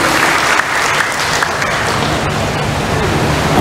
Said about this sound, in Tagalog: Pwede ho bang pumalakpak na malakas para sa Diyos?